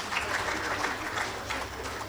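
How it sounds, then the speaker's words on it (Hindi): A crowd applauding at a Hindi kavi sammelan poetry gathering, a continuous moderate round of clapping filling the room, slightly distant and steady. "ताली बजाओ, इसमें सब बचती है।"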